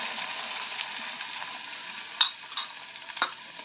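Beaten egg omelette fries in oil in a pan, a moderate steady sizzle with a few sharp clicks and scrapes from a utensil partway through, no voices.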